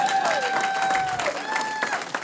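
A comedy club audience at a stand-up show breaks into steady applause, dense clapping filling the room for a couple of seconds.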